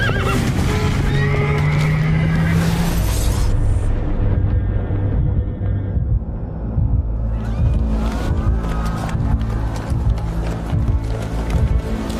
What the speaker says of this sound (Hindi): अरे रे, घोड़े की वजह से एक्सीडेंट हो गया।